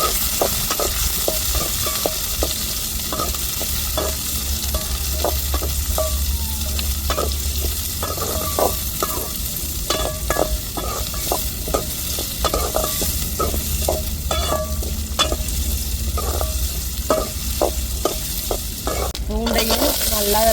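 Sliced large onions sauté in a pan with a loud, constant sizzle, punctuated by regular light taps and scrapes of a spoon stirring them, close up and without speech.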